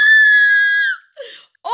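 A woman gives a long, loud, high-pitched scream of excitement, followed by shorter squealing cries after a brief pause.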